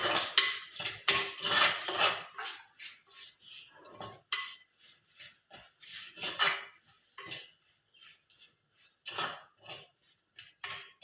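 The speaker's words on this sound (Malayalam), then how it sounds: "ആവശ്യത്തിനുള്ള ഉപ്പ് ഇനി നല്ലപോലെ ഒന്ന് മിക്സ് ചെയ്യും" A spoon mixing fish curry paste with salt in a metal pot or bowl, a run of close scraping and clinking strokes that comes in bursts with short pauses between them.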